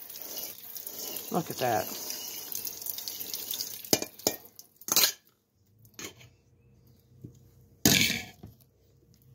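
Water runs from a kitchen sink faucet fitted with a laser light, a steady close rush through the first half that breaks into short splashing bursts, with a person talking over it.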